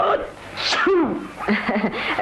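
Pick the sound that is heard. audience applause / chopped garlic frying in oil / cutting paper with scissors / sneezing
sneezing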